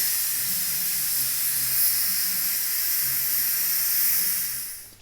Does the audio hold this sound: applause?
no